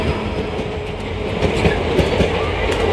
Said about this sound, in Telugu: మన ట్రైన్ అయితే వచ్చింది. బట్ డీజిల్ లోకోమోటివ్ పుల్ చేస్తున్నారు.